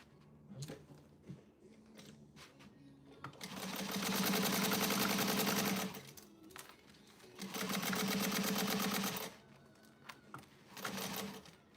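A sewing machine runs basting stitches in two sustained bursts of fast, even whirring, separated by quieter handling sounds of fabric and the machine.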